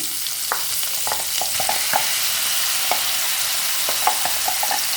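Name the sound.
ground masala poured into frying capsicum and carrot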